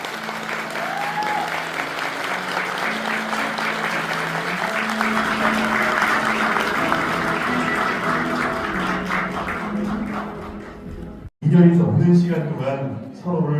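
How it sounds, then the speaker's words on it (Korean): Wedding guests clap together in sustained, dense applause that fills most of the stretch, with music or a voice running beneath it, a brief gap near the end, then a louder burst of sound resuming. "신랑과 신부가 인사를 드릴 때 내민 여러분께서는 큰 박수를 보내주시기 바랍니다"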